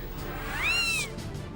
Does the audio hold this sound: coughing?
no